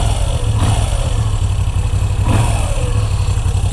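Moto Guzzi V9 Bobber engine revving in two short blips over a steady low idle rumble, loud and close, with no talk.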